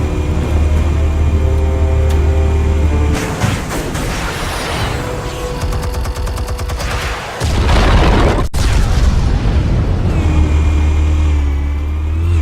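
Explosives detonate in the Batman Telltale game, a loud booming burst with rumbling debris and a sharp crack near the middle, set against a steady low musical drone, with no talking.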